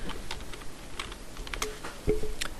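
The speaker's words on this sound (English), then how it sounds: "Now type your text." Keys clatter on a computer keyboard in an irregular run of light, crisp taps, close and fairly quiet, with no one speaking.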